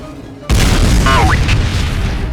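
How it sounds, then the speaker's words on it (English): A critical rocket explodes in Team Fortress 2 as a sudden loud boom, followed by a sustained roaring rumble with a short whistling tone laid over it. "a soldier who was blessed with a Crocket, which is a critical rocket"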